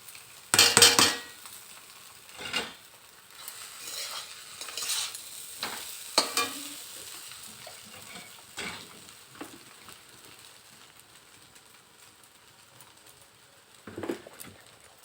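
Chow mein being stir-fried in a pan with already-fried egg and onion: loud sizzling and scraping of a spatula against metal in bursts, with occasional clinks of utensils and quieter frying between strokes.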